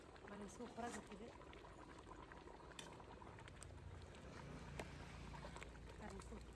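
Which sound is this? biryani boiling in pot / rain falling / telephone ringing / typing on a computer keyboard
biryani boiling in pot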